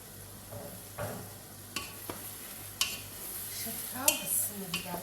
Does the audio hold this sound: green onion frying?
yes